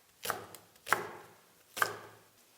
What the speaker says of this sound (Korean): 대파가 좀 지금처럼 이렇게 큰 사이즈다라고 하시면 반절 자르신 뒤에 어슷하게 썰어 주시면 됩니다